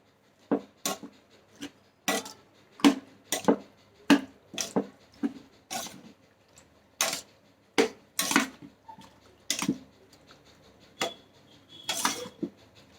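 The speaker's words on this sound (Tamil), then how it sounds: "இப்போ இதை நல்லா மிக்ஸ் பண்ணி விட்டுக்கலாம்." Yogurt pachadi is stirred in a bowl with a spoon, giving a steady series of close, quiet clinks and soft wet scrapes at an uneven rhythm, with no talking.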